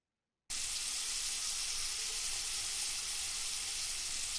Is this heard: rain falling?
no